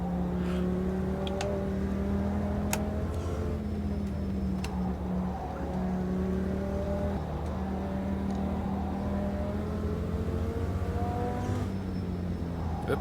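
A V10 race car engine in a racing video game hums steadily with sustained harmonic tones that rise and fall in pitch as it revs and shifts, a continuous close engine drone throughout.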